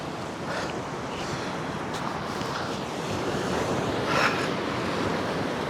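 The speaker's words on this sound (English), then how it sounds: "We're next to the rocks on the beach" Steady surf washes against rocks close by on a rocky beach, a continuous roar with a slightly stronger surge near the end and some wind noise.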